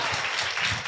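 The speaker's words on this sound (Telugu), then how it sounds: "చప్పట్లు కొట్టండి గట్టిగా" A church congregation at a Sunday worship service clapping loudly, a dense burst of many hands applauding together at close range.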